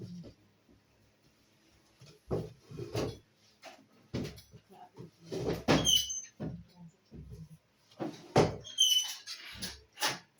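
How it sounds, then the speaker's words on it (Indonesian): A door pushed shut indoors at a clinic, a few thuds and a short squeak set among quiet movement and faint speech. "saya mau menutup pintu dulu"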